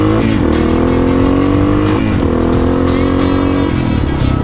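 A Yamaha motorcycle engine revs loudly and close, holding a high steady drone with two quick dips and climbs as the throttle is blipped, no talk over it.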